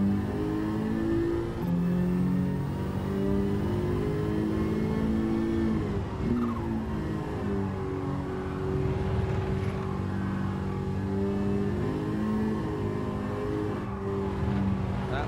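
Kei Cup race in Gran Turismo 7 with a K-swapped Honda Beat: a steady, loud engine drone with harmonic tones that shift pitch through gear changes around the middle, running continuously without talk.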